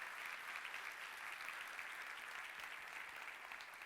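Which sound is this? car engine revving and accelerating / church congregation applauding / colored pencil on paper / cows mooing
church congregation applauding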